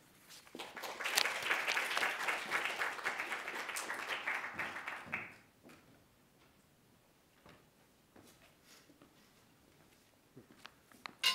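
An audience at a fiction reading applauds warmly for Chris, a full round of clapping that lasts about five seconds before fading to a few scattered claps and small room noises.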